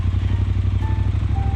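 A 2018 Triumph Bonneville T120 with a 1198cc parallel-twin engine and 270-degree crank, its deep, even exhaust pulsing steadily at idle close by.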